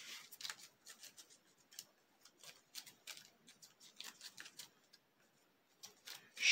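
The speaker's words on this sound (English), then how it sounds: "Shuffle my entire discard pile." A discard pile of playing cards is shuffled during a tabletop card game, giving quiet, close, uneven bursts of crisp riffling and flicking with short pauses between them.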